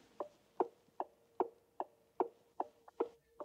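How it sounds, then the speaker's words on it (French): Turn signal indicator inside a DS N°8 car, a crisp, even ticking of about nine clicks at a steady rhythm, quiet and close in a still cabin. "C'est un son d'indicateur de direction vraiment unique à l'intérieur"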